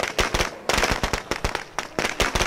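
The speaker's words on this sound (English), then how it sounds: "So let's throw a firecracker over there." Firecracker bursts going off in the zombie survival video game State of Decay 2, a loud crackling string of sharp pops in several rapid clusters, alone without talk.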